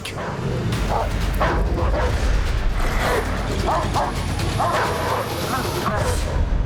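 Dogs barking and yipping in short repeated bursts from an attack on a neighbor mowing a lawn, mixed with voices and a steady background din.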